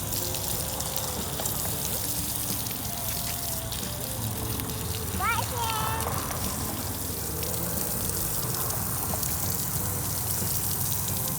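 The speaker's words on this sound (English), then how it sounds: "we gotta rinse off the sand" Water running steadily at the beach as sand is rinsed off a toddler's legs, a continuous close splashing and trickling rush that lasts throughout, with faint background sounds.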